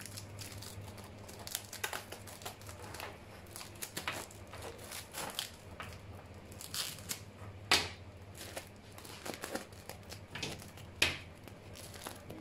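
A blank sheet of paper is handled and crinkled in a workshop where medieval spangenhelm armour is being made, with close, irregular rustles and sharper crackles over a low steady hum.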